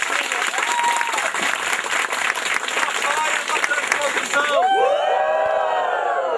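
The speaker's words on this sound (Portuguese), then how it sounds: "Uma salva de palmas para a revitalização" Loud crowd applause and cheering at an outdoor protest gathering of traditional communities opposing the São Francisco River transposition, dense clapping with whoops throughout, then shouted voices take over near the end.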